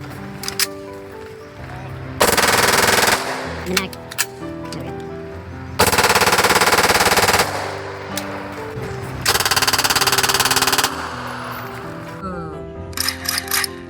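Three long bursts of rapid, loud electronic toy sniper rifle gunfire, with quieter clicks and clatter in the gaps between them.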